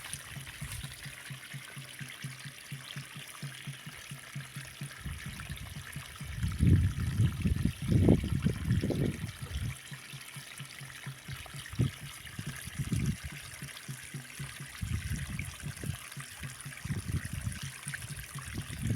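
Water trickling and flowing through an irrigation channel in a farm field with wheat and onion crops, a steady outdoor stream with louder gushing bursts at intervals, no talking.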